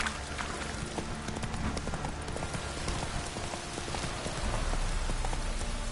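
A horse gallops in a video game, with fast hoofbeats drumming steadily beneath a dense hiss like rain, and the sound holds at an even level throughout.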